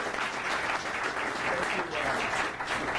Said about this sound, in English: First, a big round of applause.